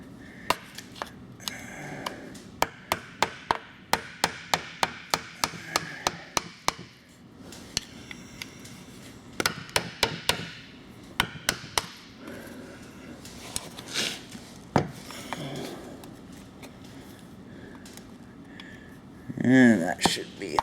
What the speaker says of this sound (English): we're just going around the seal with a flathead screwdriver